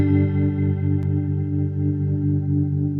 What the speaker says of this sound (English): as I engage the drive, what you're going to hear is more bottom end basically coming in and more kind of grit